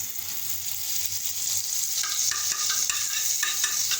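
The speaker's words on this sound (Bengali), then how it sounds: "করে আমি একটু বাটার দিয়ে দিলাম" Butter sizzles steadily in a hot pan as the start of a chicken soup, a bright continuous hiss with light crackle that grows busier and more spattery toward the end, close by with no voices.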